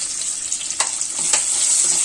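Grated ginger frying in oil in a pan, a continuous close sizzle with a couple of brief sharper crackles, no voices.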